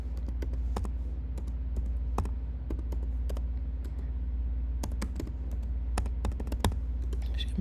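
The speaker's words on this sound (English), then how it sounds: "I'm going to type in" Keys clack on a computer keyboard in irregular bursts of close, crisp taps over a low steady hum, with no talking.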